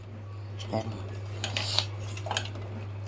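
A spoon stirs milk with crumbled peda in a metal pot while making basundi, giving a few light scrapes and clinks against the vessel over a steady low hum.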